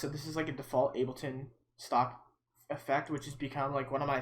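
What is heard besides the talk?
No everyday noise stands out behind the speech.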